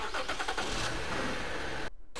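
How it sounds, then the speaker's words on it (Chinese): A Toyota Reiz sedan engine fires up and settles into a fast cold idle around 1000 rpm, a loud steady mechanical drone with rhythmic pulsing early on, cutting off abruptly near the end. "这是刚启动怠速1000多转的时候"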